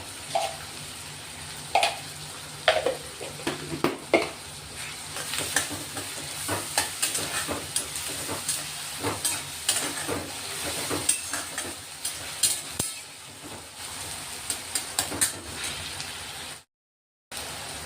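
Chopped onions with salt and asafoetida sizzle in a pan for a Marathi mung bean usal, with frequent scraping stirs and clinks of a spoon over a continuous fry hiss, close and alone, ending in a brief silence.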